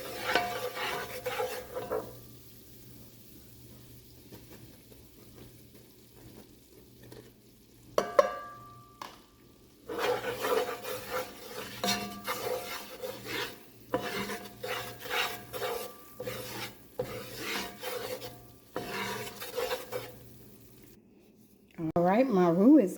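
A spoon stirs an oil-and-flour roux for Louisiana gumbo in a pot, made from a cup of vegetable oil and a cup of flour. The stirring gives a close, raspy scraping with a soft sizzle, in bursts and pauses, and a person talks over parts of it.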